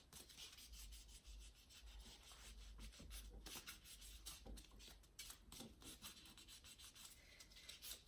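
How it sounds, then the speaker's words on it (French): During a pedicure, toes are sanded to remove dead skin, giving a soft, faint rasping rub in irregular strokes with no talking. "Je vais commencer d'abord par poncer les orteils pour enlever la peau"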